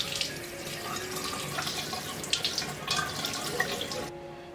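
Tap water running steadily into a sink while a piece of half-fat pork foreleg is washed, continuous splashing and trickling, cutting off at the end.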